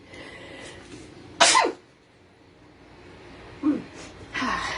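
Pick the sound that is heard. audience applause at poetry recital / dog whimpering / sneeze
sneeze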